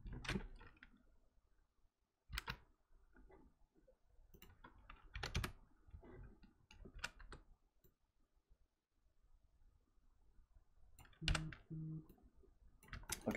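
Scattered bursts of keyboard typing, quiet clicks and taps coming in short clusters separated by pauses, close and faint.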